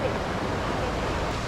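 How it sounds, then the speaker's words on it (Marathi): A river flows with a steady, close, full rushing wash of water that sounds continuous over a short moment. "इकडे पाण्याचा आवाज खूप येत असेल ना"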